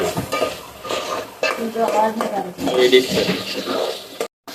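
Mutton masala being stirred and roasted in a pan, with steady scraping and sizzling throughout and a person talking over the cooking.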